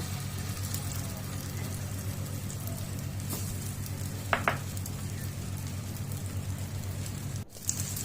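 Egg-coated raw banana pieces fry in a frying pan with a steady, even, rain-like hiss of hot oil and a couple of brief clinks near the end.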